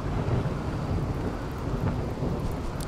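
In the video game RimWorld, steady rain falls under a continuous low rumble of thunder, dense and fairly loud, with no voices.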